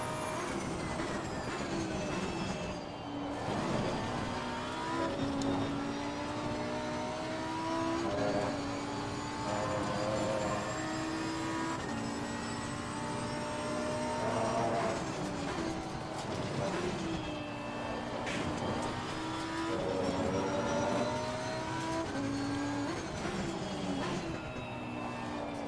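A Lamborghini Huracan Evo race car lapping Imola in Assetto Corsa Competizione, its engine note climbing through gears and dropping under braking, a steady close-up drone of shifting pitch that runs throughout, fairly quiet overall.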